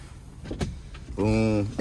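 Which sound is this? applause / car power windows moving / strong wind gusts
car power windows moving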